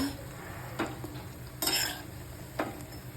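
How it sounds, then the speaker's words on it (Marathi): Motichoor laddu boondi frying in oil give a soft, steady sizzle while a utensil stirs and turns them, with several sharp scraping clinks against the pan at irregular intervals. "आणटून पलटून छान भाजून घ्यायचे"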